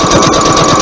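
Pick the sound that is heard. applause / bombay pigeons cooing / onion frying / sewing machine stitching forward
sewing machine stitching forward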